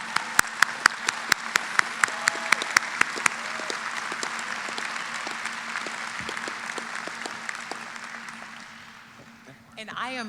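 An audience at a medical school hooding ceremony breaks into sustained applause and cheering for an award recipient, with a few sharp nearby claps standing out at first before the clapping tapers off.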